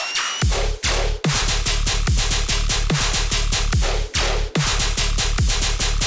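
Textured dubstep sub bass with a crumpled paper-bag grit, playing loud and continuous in a rhythmic pattern with repeated pitch drops and short gaps, no voices.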